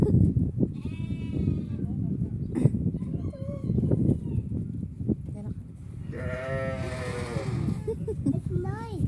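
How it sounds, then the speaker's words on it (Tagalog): Goats bleat several times at a sheep farm, close by, amid children's and adults' chatter and a busy outdoor background. "You hold the goat."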